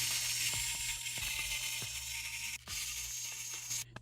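Small screws are backed out of a Lenovo ThinkPad X1 Yoga laptop's battery with a screwdriver, giving quiet repeated ratcheting clicks and light mechanical ticks close up.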